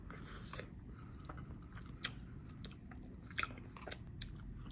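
Someone chews tteokbokki close to the mic, the soft wet mashing broken by sharp little sticky clicks and crunches at irregular moments.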